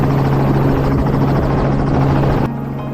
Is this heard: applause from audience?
no